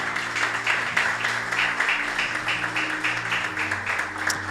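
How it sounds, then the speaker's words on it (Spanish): A church congregation on Easter Sunday applauding, dense sustained clapping from many hands filling the room, fairly loud and steady. "¿Qué tal si le das un aplauso al Señor por eso?"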